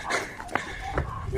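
Police K9 tracking dog giving short whimpers and yips, close by, with a voice speaking around them.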